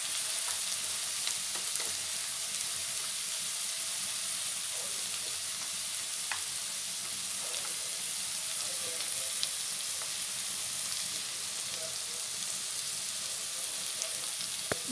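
Spices sizzle steadily in hot oil in a pan while fish head curry is cooked, a continuous close frying hiss with small crackles and pops throughout.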